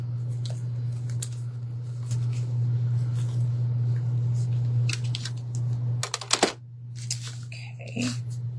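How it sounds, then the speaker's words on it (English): Snipping sounds from scissors cutting off excess material while decorating a Dollar Tree mason jar, a few sharp clicks and crunches near the end over a steady low hum, with no talk. "Oh, I forgot to cut this off."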